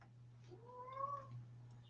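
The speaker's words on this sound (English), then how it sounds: "now I've got somebody meowing" A single cat meows once, drawn out and rising then falling, faint and slightly distant over a steady low electrical hum, with no talk.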